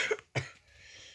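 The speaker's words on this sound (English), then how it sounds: "I have a little bit of cough." A single man's cough followed by a second sharper cough, close and fairly loud, with quiet room tone after.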